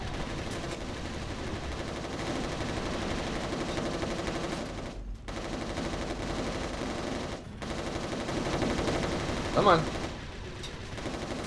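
Sustained gunfire against Chimera enemies in Resistance Retribution, with continuous automatic shooting and battle noise under occasional talk.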